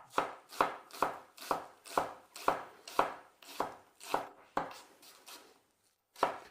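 A knife slices through an onion on a cutting board, giving about a dozen crisp, evenly spaced chops. A short pause comes before the final cut.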